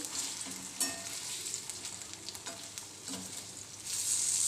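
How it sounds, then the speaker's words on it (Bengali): Fritters (bora) frying in hot oil beside a pot of fish curry, with a continuous near sizzle and occasional stirring and turning clatter, and no talking. "বড়াগুলোকেও লাল লাল করে ভেজে তুলে নেব"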